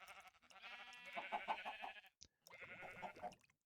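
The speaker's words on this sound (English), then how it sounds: "you might also be able to hear the cries of sheep and the activations of shears" Sheep bleat in a cluster at a wool farm inside a Minecraft-style video game, loud, wavering cries overlapping for about two seconds, a short gap, then another burst of bleating; no separate shear snips stand out.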